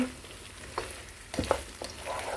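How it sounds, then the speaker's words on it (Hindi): Okra (ladyfinger) stir-fries in hot oil, a soft sizzle broken by a few scraping stirs and clinks of the spatula against the pan, close and fairly quiet. "अब ऑयल गर्म हो चुका है तो हम इसमें भिंडी ऐड कर देंगे। और भिंडी को स्टर फ्राई करेंगे"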